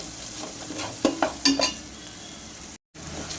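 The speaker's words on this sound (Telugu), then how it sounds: "ఈ ఉల్లి ముద్ద పచ్చివాసన పోయేలాగా బాగా వేయించుకోవాలండి" Onion paste frying in a pan for a crab curry, with a steady close sizzle and a few distinct scraping stirs of a spoon against the pan partway through.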